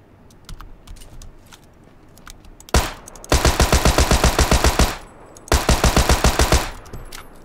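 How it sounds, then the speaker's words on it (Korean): Tommy gun firing in the video game Battlegrounds, two loud bursts of rapid evenly spaced shots, each lasting about two seconds with a short pause between, preceded by softer ticking game noise. "단발이라서 저렇게 나가는구나 토미건"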